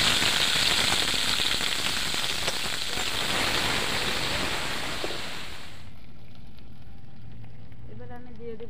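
Onions for a potato chicken curry hit hot oil in a pan with a loud, steady, hissing sizzle that fills the first six seconds, then drops abruptly to a faint quiet crackle.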